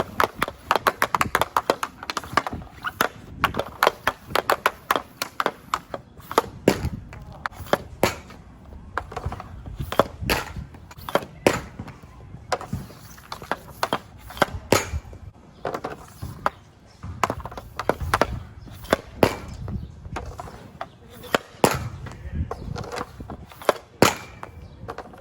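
Hockey pucks are ripped off ice at Better Hockey targets, a long series of sharp, loud cracks and smacks at an irregular pace over a low background rumble.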